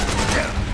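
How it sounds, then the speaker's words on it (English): Rapid burst of gunfire from the video game Metal Gear Solid 4, loud and dense, filling the short moment without a clear break. "Okay, I shot one of them."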